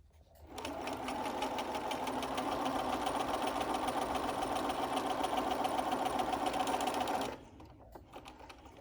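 A sewing machine runs one continuous burst of about seven seconds, top stitching an eighth-inch edge on a fitted face mask, its rapid steady needle chatter close and even, stopping abruptly into quiet.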